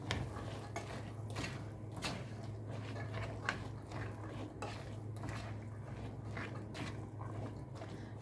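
Chickpeas with cumin and salt stirred in a pot with a spoon, giving soft repeated scrapes and light metallic clinks over a low steady hum.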